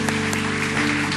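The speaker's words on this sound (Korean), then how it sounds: "우리 큰 박수로 축복하겠습니다" A congregation claps during a church service at Suwon Onnuri Church, a steady, fairly loud patter of hands over a sustained musical tone in the background.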